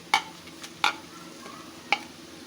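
Nigella seeds tipped into a pan of onions and green chilies that have been fried until translucent, for a tangy tomato pickle-style chutney; a few sharp clinks of stirring stand out over a faint, steady sizzle, with no talking.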